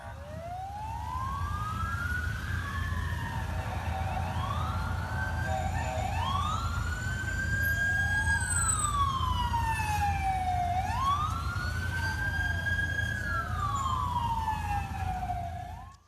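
Several fire engines race to a large building fire in a city centre with their sirens wailing. The overlapping sirens rise and fall loudly and continuously over a low traffic rumble.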